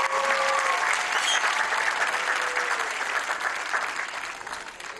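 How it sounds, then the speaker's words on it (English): A crowd at the Egyptian Open squash trophy ceremony applauds the women's champion, full continuous clapping that holds steady then gradually softens, with a few cheers and shouts mixed in. "we'll ask you to keep that applause going"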